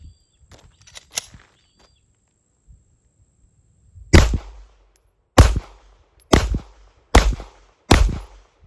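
Five loud, evenly spaced gunshots from a PSA Dagger pistol fitted with a budget muzzle device, each a sharp crack with a short echoing tail, following a few quiet handling clicks.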